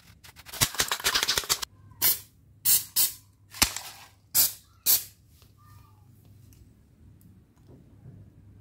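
Anti-leak spray from an aerosol can applied to an interior house wall, heard as a dense burst of hissing followed by five short, separate spray bursts, then quiet.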